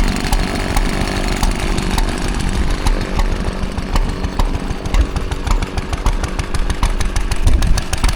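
Lister stationary engines run together at a vintage vehicle display, making a loud, continuous rapid chugging with sharp regular firing beats layered over a dense mechanical roar.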